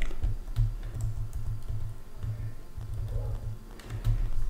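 A computer keyboard is tapped in a quick, irregular run of soft clicks during a keyboard shortcut, close and fairly quiet, with no talking.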